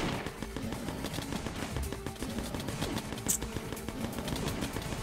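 Rapid continuous gunfire from the video game Necesse, a dense steady stream of shots that fills the whole stretch at constant loudness with no pauses.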